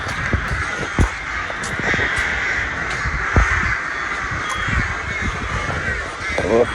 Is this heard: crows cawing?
yes